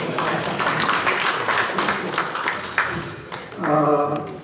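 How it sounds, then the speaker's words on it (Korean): Assembly delegates at a church general meeting give a loud burst of applause, dense and sustained before thinning out as a voice begins speaking near the end. "박수 한번 주세요"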